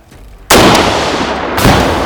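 A single powerful grenade launcher shot erupts suddenly during marine infantry training, loud and close, followed by a roaring, rumbling echo that lingers.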